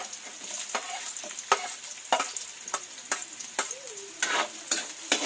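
Onions frying in a pan for kinunot, a Filipino stingray dish, the sizzle punctuated by a steady run of close, rhythmic spatula scrapes and knocks.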